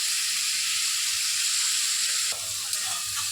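Onion paste sizzles steadily in hot oil for an egg curry, a dense close hiss that dips slightly partway through with a faint stirring knock.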